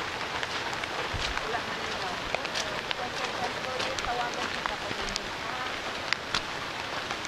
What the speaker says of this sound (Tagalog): It's raining here and very foggy.